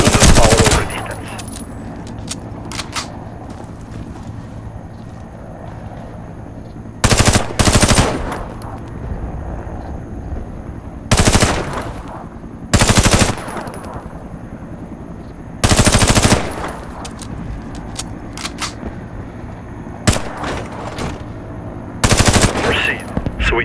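Bursts of rapid SMG fire from the video game Warface, several loud clusters of shots spaced a few seconds apart over a low steady game ambience.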